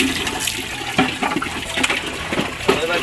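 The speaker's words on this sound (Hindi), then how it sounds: "फिर शेरी ने पानी झाड़ा" A dog shakes bath water off its fur in a small washroom after being washed with chilled water, a loud, continuous spraying splatter of droplets with sharper splashes throughout.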